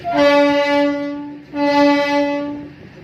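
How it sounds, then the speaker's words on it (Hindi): A locomotive horn sounds twice, loud and close, on a rail line between Sivok and beyond. Each blast is a sustained chord of about a second and a half, with a short gap between the two and no voices over them. "इधर हॉर्न बजा दीजिए, हॉर्न बजाइए"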